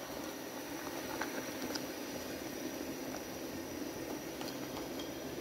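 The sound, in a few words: egg and soybean curry with coconut milk simmering in pan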